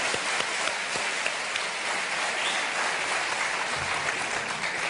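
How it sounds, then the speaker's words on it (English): A lecture audience gives steady, dense applause, a continuous wash of many hands clapping at even loudness with no speech over it. "give him another clap for that"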